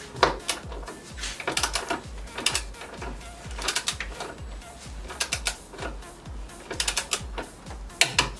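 A torque wrench ratchets as it tightens coilover bolts on a Ford Taurus front suspension, giving quick bursts of sharp, close clicking in an uneven rhythm with short pauses between strokes.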